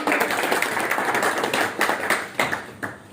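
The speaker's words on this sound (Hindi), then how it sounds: "भरपूर तालियों में।" A gathered crowd at a political movement's event in Kot Momin claps for a guest speaker, fairly close, with bursts of hand claps rising and falling and trailing off toward the end.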